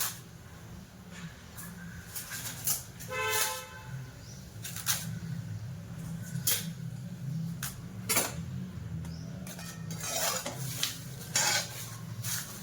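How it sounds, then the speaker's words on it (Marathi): Whole spices and bay leaves dry-roasting in a pan for Maharashtrian masala, with repeated clinks and scrapes of a spatula against the metal pan over a steady low background hum. "याला चांगलं हलकसं भाजून घ्यायचं."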